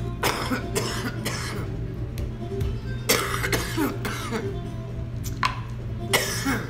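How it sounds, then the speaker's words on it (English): Several sharp coughs break out over a steady low hum, some close together, with quieter rustling and movement between them. "Makes me cough every time"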